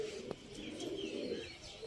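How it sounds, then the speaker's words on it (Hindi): A golden female pigeon coos softly, a low murmuring call close by with a faint chirp from another bird, quiet and without speech. "ये वो कबूतरी है"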